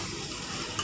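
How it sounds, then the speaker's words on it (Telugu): Curry frying in a pan, a steady low sizzle with faint stirring, continuous and close throughout, with no talk. "కర్రీ అయితే ఉడుకుతుంది, వేయించుతున్నాను ఫస్ట్."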